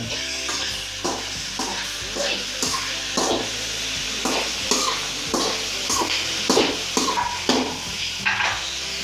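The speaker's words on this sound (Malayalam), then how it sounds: "ഇനി ഇളക്കണം ഇളക്കി കൊടുക്കുക" Chicken thoran sizzles steadily in a pan while a spoon stirs it in regular scraping strokes, repeated about once a second throughout.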